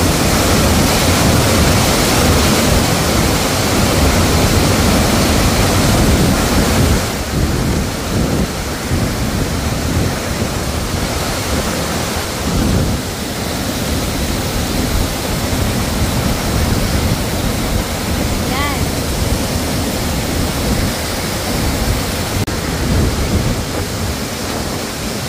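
Anthurium Falls in Famy, Laguna, a loud, steady roar of rushing, crashing water that fills the whole scene without pause, heard up close with no voices.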